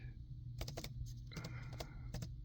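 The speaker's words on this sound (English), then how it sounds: "it's really weird typing" Keys clack on a computer keyboard during microcontroller programming work, with short bursts of close, crisp clicks in uneven clusters over a low steady hum.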